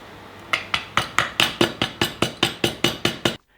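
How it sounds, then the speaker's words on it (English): Outer caps being gently tapped onto a motorbike swing arm with greased bushes and bearings, about a dozen evenly spaced metallic taps in a steady rhythm, close and clear. "Mike greases and fits the new bushes, bearings and shims to the swing arm and gently taps on the outer caps."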